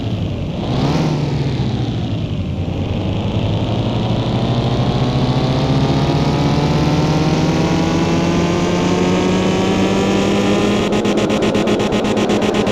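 A modded Honda S2000 engine in Car Mechanic Simulator revs loud and up close, with a quick early shift followed by one long, steady climb in pitch that ends in a stuttering rev-limiter buzz.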